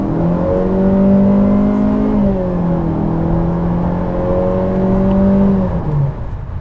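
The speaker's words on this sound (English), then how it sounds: "Very loud engine once it really gets up there." A 2017 Honda Civic EX-L Hatchback engine revving hard and close, pitch climbing through gears with brief dips between shifts, loud and sustained throughout.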